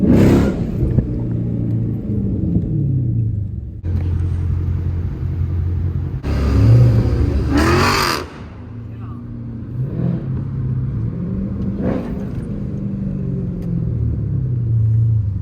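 A loud muscle car with a muffler delete, an SRT 392 or Hellcat, rumbles at idle and revs in deep bursts at a downtown street takeover, with people talking nearby.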